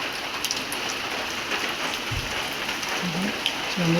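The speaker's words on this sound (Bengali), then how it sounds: "বৃষ্টি হচ্ছে" Heavy rain pours outside at night on an empty street, making a constant, even hiss of drops across the whole stretch with no break.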